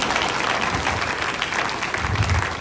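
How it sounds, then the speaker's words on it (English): An audience at a university inaugural lecture in Calabar applauds the lecturer, dense steady clapping filling the hall for the whole stretch at an even loudness. "Please clap for her"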